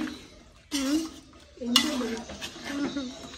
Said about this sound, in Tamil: இப்போ இப்படி எல்லாம் கலந்து விட்டாச்சுல்ல, கலந்து விட்டு இதை கொஞ்சம் கூட்டி விட்டுட்டு